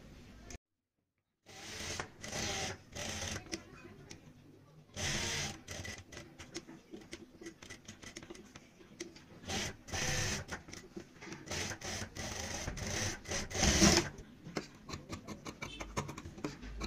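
Sewing machine stitching a pintuck neckline design on a kurti front, running in close, uneven bursts with a rapid mechanical patter and brief pauses between runs.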